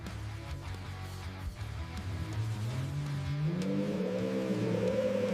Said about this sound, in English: Engine output is measured at full throttle